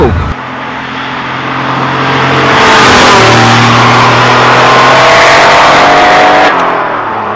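Porsche 930 Turbo accelerating away, a loud engine roar that climbs steadily through the gears and stays strong and close before easing off at the end.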